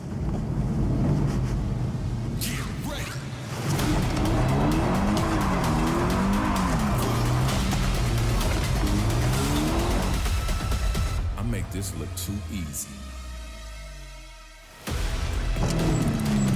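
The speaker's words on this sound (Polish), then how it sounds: "spróbuję zrobić bączka" A car spins donuts with tires squealing and skidding in long wavering howls over a revving engine, the squeal cutting out briefly near the end before the engine surges again; wind buffets the microphone.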